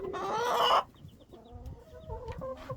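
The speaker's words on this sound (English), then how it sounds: "How's the chickies doing?" Backyard chickens cluck close by in a short run of soft, irregular calls, following a brief louder burst of squawking at the start, with faint chirps between.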